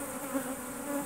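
Honeybees buzz inside a strong nucleus colony hive as it is opened in January, a close, steady, faint drone with no voices.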